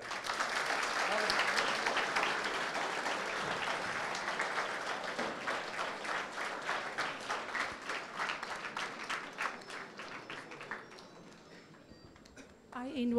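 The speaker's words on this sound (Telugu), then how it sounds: "సో గట్టిగా చప్పట్లు" An audience at a college event bursts into loud applause, a dense roar of many hands that gradually thins into separate rhythmic claps before fading, with a voice briefly heard at the very end.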